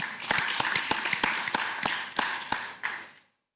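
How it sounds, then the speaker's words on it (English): Scattered hand claps from a conference audience at a renewable energy investment forum in Nigeria, a short uneven round of applause with distinct individual claps that tapers off into silence. "I think that deserves a round of applause."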